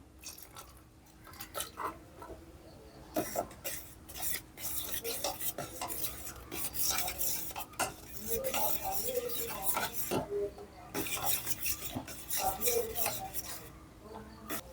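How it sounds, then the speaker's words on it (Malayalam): A spoon stirs chilled milk into an avil milk mixture of flattened rice in a bowl, making repeated scraping and clinking strokes against the container, moderately close and steady, with brief quiet pauses between bursts of stirring. "ഇതൊന്ന് നന്നായിട്ട് മിക്സ് ചെയ്തെടുത്തതിന് ശേഷം നമുക്ക് പാലും കൂടെ ചേർത്ത് മിക്സ് ചെയ്യണം"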